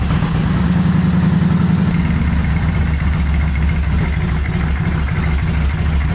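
A Kawasaki Vulcan 1500 motorcycle engine idles steadily up close, a loud continuous low rumble that settles into an even beat partway through, with no talking.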